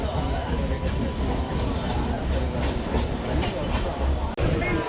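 Rumbling interior of a moving passenger carriage on the Araku line, a steady dense roar of wheels and rattling with faint clatter throughout, close and continuous.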